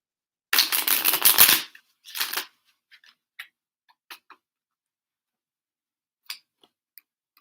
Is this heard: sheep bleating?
no